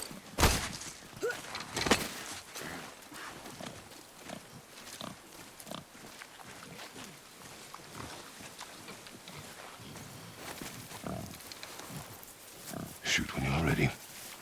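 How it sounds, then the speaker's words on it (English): Wild boar in the God of War game grunts and snorts amid a busy mix of game music, effects and rustling movement, with a few louder bursts near the start and end; a voice speaks briefly. "I knew it was a boar."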